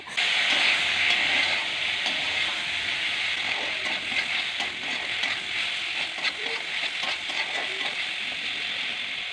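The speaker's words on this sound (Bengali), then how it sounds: "বেগুনগুলো দিয়ে আবার ভালো করে কষিয়ে নেব বেগুনটা নরম হওয়া পর্যন্ত" Thinly sliced eggplant sautéing with spices and onion for a Bengali fish curry, a constant hissing sizzle with small stirring scrapes, close and fairly loud, easing slightly after the first second, no talking.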